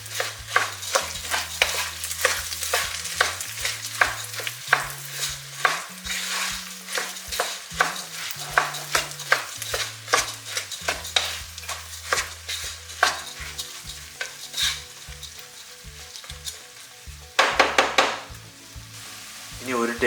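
Vegan vegetable rice frying in a pan is stirred with a utensil, giving repeated scraping and clinking strokes over a soft sizzle, with background music playing throughout.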